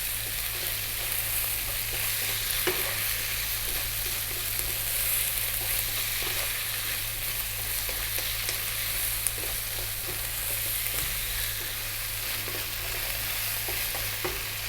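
Sweet potato fries in an oiled pan with garlic ginger paste and salt, a steady loud sizzle running throughout with frequent scraping and clicking of a utensil stirring close by, no voices.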